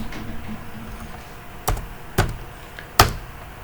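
A few separate keystrokes on a computer keyboard while router commands are entered in a networking lab. Three sharp, close taps about half a second apart, with no talking.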